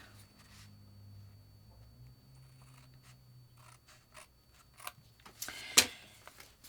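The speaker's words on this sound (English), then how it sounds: "And I'm going to trim off the excess." Paper trimmed for a handmade card: soft snips and scrapes of cutting close by, scattered at first then growing busier and louder toward the end, with a faint low hum underneath.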